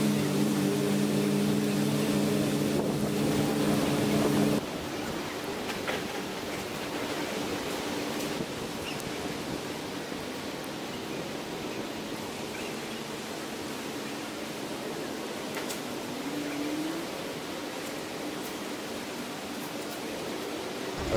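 Steady broad rushing wash of water from a park fountain, continuous and fairly loud, with a low hum fading out early.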